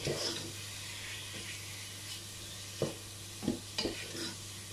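Pork chops browning in a frying pan, a soft steady sizzle with a low background hum and a few scraping stirs toward the end, quiet and close.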